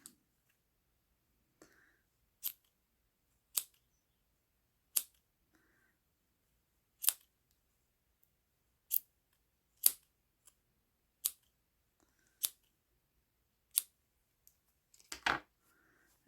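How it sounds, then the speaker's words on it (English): Scissors snip a crochet yarn end with a run of about a dozen sharp, separate clicks spaced roughly a second apart, close and clear against near silence, ending in a slightly longer cluster of cuts. "And then you can snip the end."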